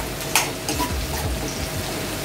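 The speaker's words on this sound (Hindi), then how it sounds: "जो ग्रीन मिर्ची रेड हो गई है वो चॉप करके हम इसमें डालेंगे। इसे भी अच्छे से फ्राई करेंगे।" Chopped red chillies sizzling in oil in a pan over a high flame, a steady close crackle with a few sharp spits and faint stirring scrapes.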